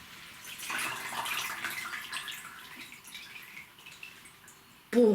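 Water pours and trickles as it drains out of an orchid pot, a steady splashing stream running for several seconds before a brief louder clatter at the end.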